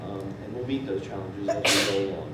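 A single sharp sneeze bursts out near the end of a board of education meeting, loud and close, cutting across a man's ongoing speech.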